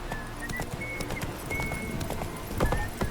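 Horse hooves clip-clop steadily at a trot in The Witcher 3 video game, close and continuous, with faint game ambience and a brief bright tone over the top.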